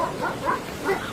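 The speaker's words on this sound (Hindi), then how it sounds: "उसे अपने पीछे भागते हुए कुत्तों की आवाज सुनाई दी।" Several barks and yelps from dogs chasing someone arrive in quick succession, fairly close, with short rhythmic bursts and a slight whimpering tone.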